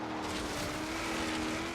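A Renault Alpine GTA Le Mans rear engine in Forza Horizon 3 roars in a brief, steady high-revving drone, held at constant pitch.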